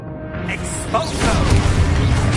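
A blasting Expulso spell explodes in the video game Hogwarts Legacy, a loud, rumbling burst that swells about halfway through and stays dense and steady to the end.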